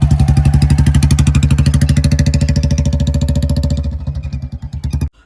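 A Royal Enfield Bullet motorcycle engine runs with its deep, rapid thumping beat close by, the revs held steady before easing off and stumbling to a stop near the end.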